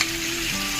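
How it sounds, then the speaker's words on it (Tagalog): Slices of a large fish fry in a pan about 35 cm across, giving a brief, steady, close sizzle of hot oil with no voices. "So prito lang natin yan"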